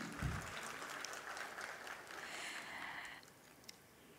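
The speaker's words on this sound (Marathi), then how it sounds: "एकदा जोरदार टाळ्या त्यांच्यासाठी." An audience claps for a singer at a felicitation event, a faint, distant wash of applause that holds steady for about three seconds, then fades out.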